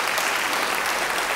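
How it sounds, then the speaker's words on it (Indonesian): Dense, steady applause from a church congregation during a sermon, a full roomful of clapping sustained evenly throughout with no talk over it. "Beri tepuk tangan bagi dia."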